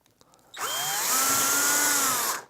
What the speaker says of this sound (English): we'll want to drill all the way through the piece of pipe